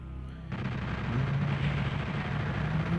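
Rocket fire in the PS1 version of Doom 2 sets off a sudden heavy roar after a quiet start. A dense, continuous rumbling blast then fills the rest of the moment, loud and without speech.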